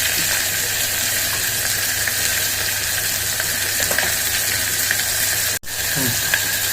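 Tomato pieces, curry leaves and turmeric frying in hot oil for mutton kheema pulao, a loud continuous sizzle with light stirring scrapes and one brief sharp clatter near the end.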